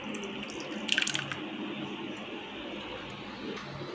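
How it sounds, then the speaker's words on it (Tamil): Water pours into a pressure cooker holding lentils, a soft running splash with a brief louder gush near the start before settling into a quiet, steady trickle. "இப்போ கொஞ்சம் தண்ணி குக்கரில் சேர்த்து அதையும் கலந்துக்கோங்க"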